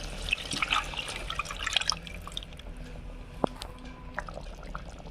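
Fish curry made with river kelithi fish, cooked village-style, is poured into a pot: soft, close liquid pouring and dripping that is strongest at the start and then fades to light trickles, with no talk.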